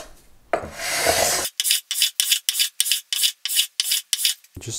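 Rhythmic rasping strokes of a leveling beam with 320 grit sandpaper over guitar frets, about a dozen short evenly spaced back-and-forth scrapes, close and clear with no talk.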